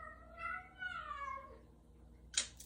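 A female cat in her first heat gives a long, drawn-out, rising and falling meow, close and fairly loud, followed by a short sharp sound near the end.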